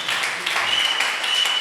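A church congregation claps together in a steady, dense wash of applause that fills the whole moment, loud and close, with no break or single voice standing out.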